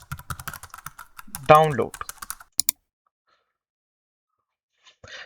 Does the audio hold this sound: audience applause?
no